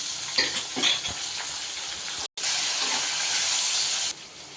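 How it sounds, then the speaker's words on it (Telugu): Onions frying in a pan for a tomato curd chutney, a continuous close hissing sizzle with a few crackling bursts early on, briefly cut off midway, then resuming loud and steady. "ముందుగా ఉప్పు వేసుకుంటే ఆనియన్స్ త్వరగా ఫ్రై అవుతాయి"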